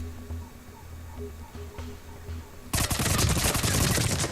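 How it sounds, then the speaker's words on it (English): Submachine gun fire in the video game Destiny, a sudden dense burst of rapid automatic shots that starts after a quieter stretch of game ambience and keeps going loud to the end. "Yeah, submachine gun."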